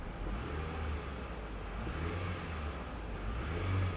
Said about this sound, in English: It revs like a fuel-efficient car.